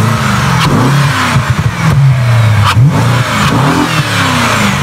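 A BMW 650i E63 V8 with a Ramair sport intake filter revs hard and close, its deep engine note rising and falling through several throttle blips, with no talking over it.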